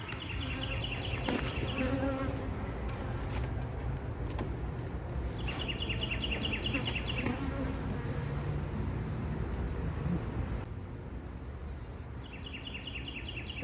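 A steady, dense buzzing of many honey bees around an open hive close by, continuous throughout, with a few faint bird chirps repeating in the background.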